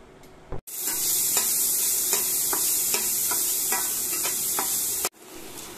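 Garlic sautés in Star margarine for a spicy tomato garlic sauce for bangus, giving a loud, steady sizzle for several seconds with faint stirring clicks throughout.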